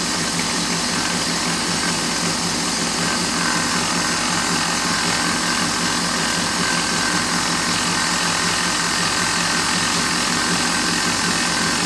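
A buffing wheel polishes a thin CA finish after Brasso compound is applied, giving a loud, steady motor whir with a dense, unbroken hiss that holds without change for the whole stretch and has no talking over it.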